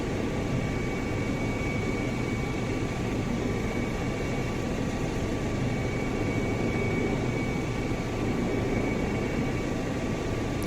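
Engine and rotor of a Rotorsims EC135 helicopter in the X-Plane 11.53 flight simulator: a steady, dense broadband whine and roar with faint constant tones, unbroken throughout and with no talk.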